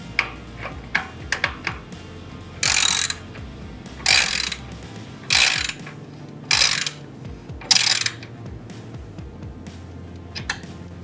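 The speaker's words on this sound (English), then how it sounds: "Now we're going to tighten the muffler clamp." A ratchet on a motorcycle muffler clamp for an S&S Grand National slip-on muffler on an Indian FTR1200, with quick clicking strokes followed by five loud, evenly spaced bursts of rapid ratcheting, close up.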